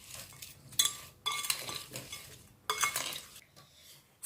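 A utensil scrapes and clinks through roasted vegetables and figs in a bowl, close bursts of stirring with metallic chinks separated by short quiet pauses.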